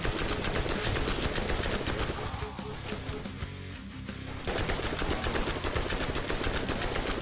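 Rapid automatic turret fire from the video game Borderlands, a dense continuous rattle of gunshots that thins briefly midway, then resumes at full loudness, close and steady throughout.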